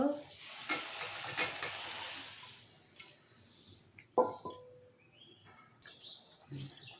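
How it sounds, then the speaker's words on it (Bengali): Gourd curry with chana dal and prawns is poured into hot oil. A loud hissing sizzle bursts up close, then eases off into quieter crackling broken by a few clanks of a spoon or pot. "এখন আমি তরকারিটা ঢেলে দেব।"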